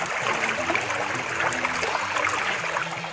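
Steady running water, a continuous rushing, bubbling flow that stays close and even throughout with no voices over it.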